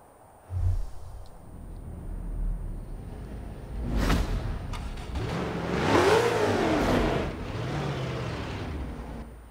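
An International Harvester truck engine in Forza Horizon 4 revs up in several rising, swelling pulls after a short thump, its loud growl climbing and easing with a whooshing edge.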